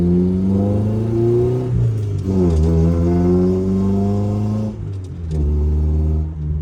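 A Ram 50 pickup with a fault pulls away in first gear, its engine droning and rising in pitch, easing at a shift around the fifth second before climbing again, loud and close from inside the cab.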